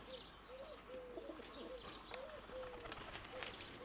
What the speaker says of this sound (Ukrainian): Отакі От голуби більш-менш в формі і проявляють зараз